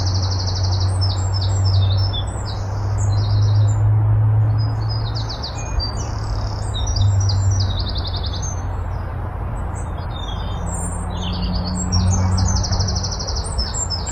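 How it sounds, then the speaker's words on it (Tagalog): Many birds chirping and tweeting in a forest beside a bridge, rapid high calls overlapping continuously over a steady low rumble of background noise. "pakinggan yung mga ibon dito ah"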